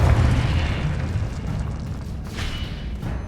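A Confringo blasting spell goes off in Hogwarts Legacy, a deep rumbling boom that starts heavy and slowly fades into a hissing tail, with no talk over it.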